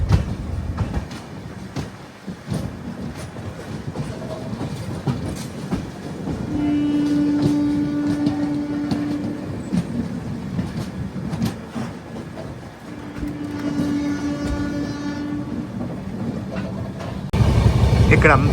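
The Visakhapatnam to Kurnool summer special train runs along with steady rumbling and clickety-clack, a sustained horn sounding twice through the middle, while a person talks over the noise.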